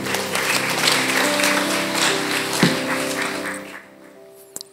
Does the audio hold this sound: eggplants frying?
no